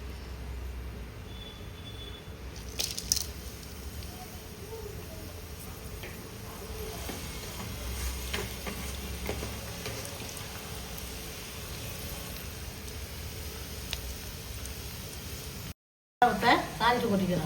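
Vadagam, a sun-dried seasoning, is tempered in hot oil for a prawn curry, making a steady, close hiss of sizzling that runs throughout with a few brief clatters.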